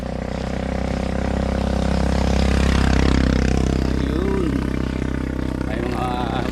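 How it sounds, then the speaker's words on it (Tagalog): Motorcycle passes outside in a rural province area, its engine swelling and fading under a person talking close by throughout. "Motorsiklo ng malabas."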